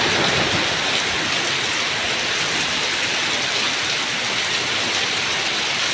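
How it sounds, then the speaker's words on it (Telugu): Heavy rain pours down in a dense, constant hiss of drops on surfaces, loud and close, with no breaks and no voices. "మామూలుగా లేదు వర్షం, ఏపచ్చమైన వర్షం."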